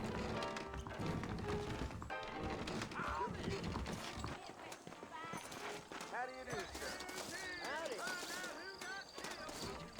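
Horse hooves clip-clop at a steady pace beneath people talking, with background music and occasional whinnies, in the video game Red Dead Redemption.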